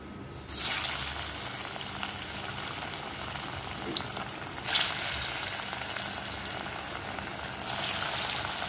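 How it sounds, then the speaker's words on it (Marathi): Pieces of coriander vadi fry in hot oil in a kadhai. A loud, steady crackling sizzle starts about half a second in and stays up, with fresh bursts of spitting partway through and again near the end. "आता यामध्ये मी तेल ठेवले कढईत."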